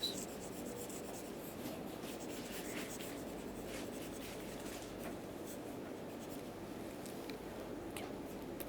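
During a lecture, an eraser rubs steadily across a writing board, a soft continuous scrubbing that stays quiet and close for several seconds.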